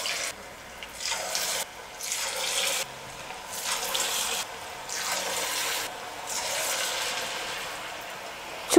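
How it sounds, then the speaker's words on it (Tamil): Small balls of rice flour and potato dough sizzle and hiss in hot oil, a steady bright frying crackle that swells and eases in waves across the whole stretch with no voices. "நல்லா எண்ணெய் சூடேறினதுக்கப்புறமா கொஞ்சம் கொஞ்சமாக மாவை எடுத்து நம்ம சின்ன சின்ன உருண்டைகளாக போட்டுக்கலாம்"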